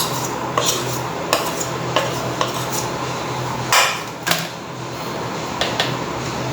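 Spoons and utensils clinking against a bowl or pan while turmeric, chili and cumin powder are added to a mashed raw banana mixture, with light sharp taps at irregular intervals over a steady background hum.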